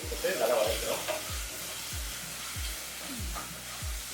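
Onion, ginger garlic and tomato sautéing for mutton Nilgiri korma, a continuous sizzle with a regular spoon scraping and tapping the pan about every half second, no talking.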